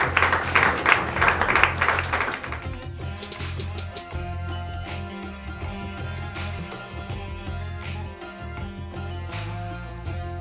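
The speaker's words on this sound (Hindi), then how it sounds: "कृपया तालियों की गड़गड़ाहट के साथ इनका स्वागत और अभिनंदन किया जाए" A crowd at a Hindi Diwas celebration in Taipei greets the chief guest with a burst of loud clapping that thins into scattered claps over steady background music.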